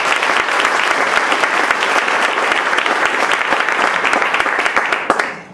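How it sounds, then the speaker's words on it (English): Loud, close applause from a startup summit audience for the event sponsors, a thick sustained roar of many hands clapping that cuts off abruptly near the end. "just give them a round of applause"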